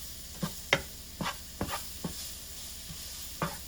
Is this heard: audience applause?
no